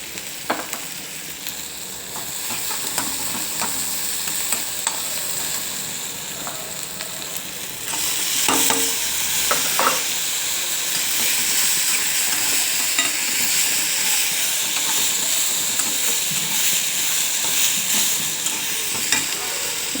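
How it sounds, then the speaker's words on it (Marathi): Onion and cluster beans are stir-fried in a pan, with a steady sizzle that grows louder and fuller partway through, broken by the scrape and clack of a spatula stirring close by. "कांदा थोडा परतल्यावर त्यात निवडलेली गवारी घालून घ्यायची आहे."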